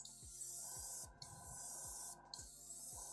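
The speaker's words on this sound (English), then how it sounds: "spray a little bit more paint so you don't feel the need to continually pass over an area back a bunch of times" Airbrush spraying white paint onto a miniature monster figure, a soft steady hiss in several bursts broken by brief trigger releases, close and quiet, with faint low clicks beneath.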